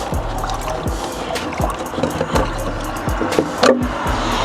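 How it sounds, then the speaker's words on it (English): The top manifold is lifted out of a pool filter, making close, hollow plastic knocks, clatters and brief scrapes in a busy, irregular sequence. "And we're going to take this top manifold out."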